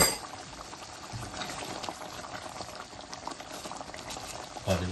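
Chicken korma sauce boils in a pot, giving a steady low bubbling and simmering hiss throughout, close but quiet, with a brief clatter near the end.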